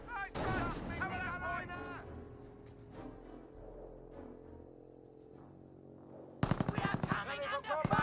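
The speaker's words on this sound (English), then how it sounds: "Mortar firing a very close range shot once again." Company of Heroes battle with rapid gunfire bursts and mortar shots, sharp cracks in quick succession at the start, quieter ambient combat in the middle, then another loud burst of firing near the end, with a commentator talking.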